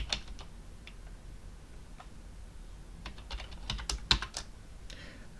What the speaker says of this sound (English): Click the Enter key